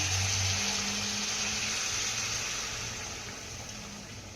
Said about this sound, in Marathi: यामध्ये आपल्याला दोन ते तीन ग्लास गरम पाणी घालायचं आहे